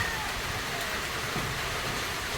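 Steady rain hisses evenly throughout, a dense wash of falling drops with no other distinct sounds.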